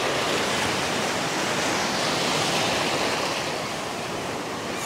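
Steady, loud ocean surf rolls and breaks on the beach at Gulf Shores, Alabama. It makes a dense, unbroken roar of crashing water throughout, with no voices.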